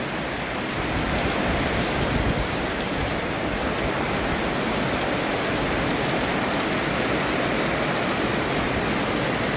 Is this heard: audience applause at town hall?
no